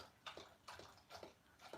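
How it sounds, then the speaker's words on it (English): A dog laps at water in quick bursts, four soft wet splashy laps spaced roughly every half second, close and fairly faint, with no voices. "Can you hear that? That's my dog drinking."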